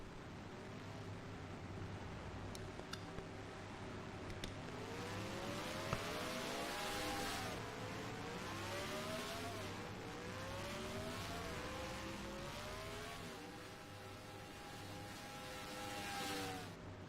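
Several race cars in a NASCAR-style racing sim pass along pit road at the Folds of Honor QuikTrip 500, fairly faint engine whines rising and falling in overlapping sweeps over a steady hum.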